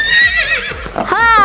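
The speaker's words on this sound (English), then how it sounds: "This is a horse. Horse." A horse neighs in a domestic animal sound set, a loud, close whinny with a falling, quavering call and a second rising burst at the end, alone without talk.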